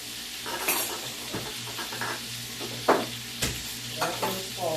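Butter added to spinach in a hot pan sizzles softly while a utensil stirs and scrapes, with a few sharper knocks against the pan near the end.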